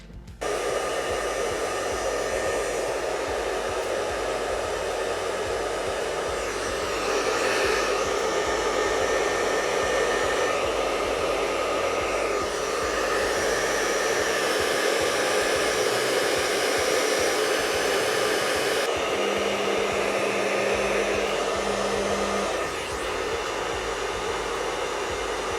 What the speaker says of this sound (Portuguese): a gente passa o secador, dá uma secadinha